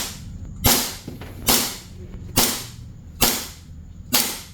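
An airsoft gun fitted with a T238 SWIFT tracer unit fires five sharp, evenly spaced shots, each a loud close snap with a short decaying tail.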